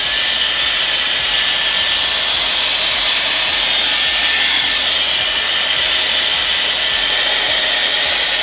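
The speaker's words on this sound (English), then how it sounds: "I'm going to take this off and use the round brush attachment just to kind of smooth everything out." Dyson Airwrap hair styler with a round brush attachment runs as a loud, steady, close airflow whoosh with a high motor whine, continuous and unbroken throughout, with no talking.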